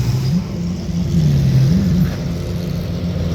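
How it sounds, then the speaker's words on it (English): GTP and GT3 race cars roll out at Daytona for the 24-hour race, a steady loud engine drone with a rising and falling pitch as cars pass, heard from an aerial vantage with no talk. "You can see the lineup of cars and everything as they come out."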